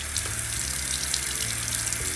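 Water runs continuously from a tap into a sink while someone washes their face, a steady, moderately loud splashing stream close by.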